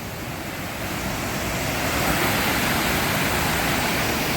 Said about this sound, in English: Then we got this big greasy waterfall here